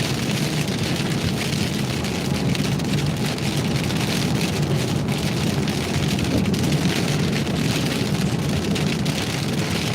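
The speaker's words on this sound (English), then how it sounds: "That rain's a little bit loud." Heavy storm rain pours in a dense, steady roar across the whole stretch during a tornado-risk storm in Illinois and Indiana, close and loud, with no voices.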